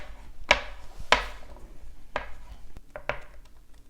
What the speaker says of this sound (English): The first thing I want to do is grate 8 tablespoons of butter.